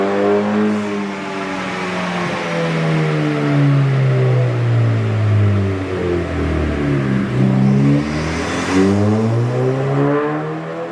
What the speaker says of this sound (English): we're going to go for our final power run and see what power the car actually makes